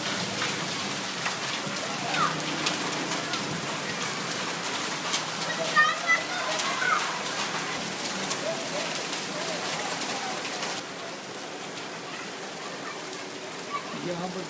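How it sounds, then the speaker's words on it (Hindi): Heavy stormy rain pours down in Lahore, a dense, steady hiss of drops drumming on surfaces close by that holds almost unbroken for the whole stretch and eases only slightly near the end. "काली आंधी वाली तूफानी बारिश हो रही है"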